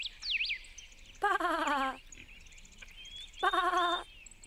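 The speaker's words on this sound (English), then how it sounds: "Sheep." Two clear sheep bleats, each about three-quarters of a second long with a wavering tone, separated by a pause and set over faint birdsong in the background.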